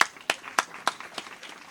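A handful of sparse, separate hand claps ring out at an award ceremony for an excellence day in Foundiougne, evenly spaced and fairly faint, with no sustained applause building up.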